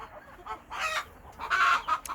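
Korean Cheonggye and bearded Baekbong chickens cluck nearby in several short, uneven bursts, one call rising louder toward the end, with no talking over them.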